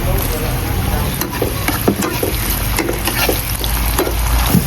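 Tomatoes sizzle loudly in a hot pan for a pork and chicken calamansi adobo, a steady close frying hiss broken by small clicks and scrapes of stirring.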